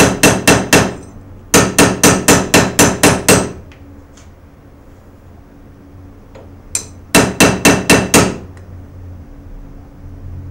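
Sharp, ringing hammer blows on a steel knife blank in quick rhythmic bursts of about five strikes each, separated by pauses, close and loud.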